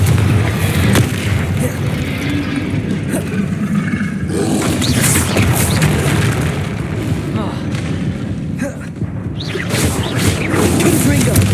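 Repeated Confringo fire spell blasts in the Hogwarts Legacy game, heavy booming explosions and crackling bursts rolling through a dense, continuous combat mix, loud and close for over ten seconds with intermittent louder hits.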